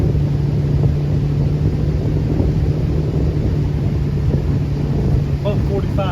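A new outboard boat motor runs steadily at moderate revs during break-in on a cold day, a continuous droning hum with strong wind rush over the microphone and faint voices beneath.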